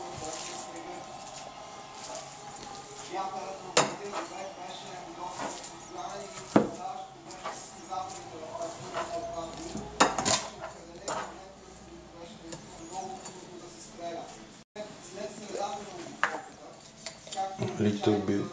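Bulgarian sarma filling is mixed in a bowl with irregular clinks, scrapes and soft rubbing, close by and moderately loud, while someone talks through much of it.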